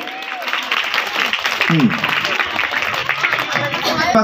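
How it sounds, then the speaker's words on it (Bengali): An audience at a student day celebration and quiz prize announcement breaks into dense applause, with a voice talking over the clapping throughout. "জোরে একটা হাততালি।"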